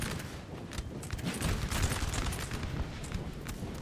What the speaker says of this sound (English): Now there's some artillery.